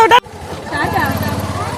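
A car engine idles with a low, steady rumble and then pulls away in heavy rain, after a short burst of a voice at the very start.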